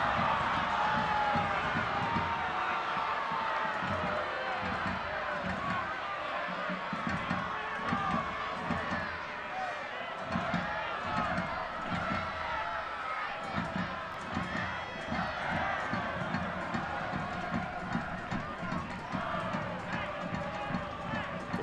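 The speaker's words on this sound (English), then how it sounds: "Crowd here at Torero Stadium trying to will their team to an equalizing goal to extend by another half hour." Stadium crowd at a soccer match at Torero Stadium, a continuous roar of spectators with rhythmic clapping and chanting, steady throughout while a commentator talks over it.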